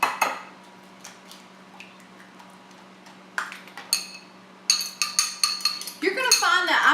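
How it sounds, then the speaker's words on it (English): An egg is beaten in a separate bowl while making pie crust, heard as a quick run of close, bright clinks of utensil against bowl that speeds up toward the end, after scattered quieter knocks. "now we're going to beat an egg in a separate bowl"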